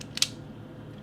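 A Czech Vz. 50 pistol chambered in .32 ACP gives a stiff double-action trigger pull, ending in a sharp metallic hammer click and then a short quiet.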